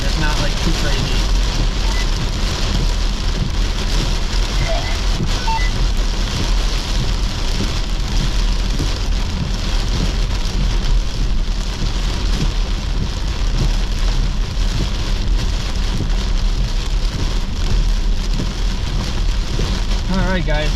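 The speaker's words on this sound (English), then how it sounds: "this is going to be some heavy winds and rain" Heavy rain and wind in a severe storm in northern Iowa, a loud continuous roar of downpour hammering surfaces, with voices talking under it.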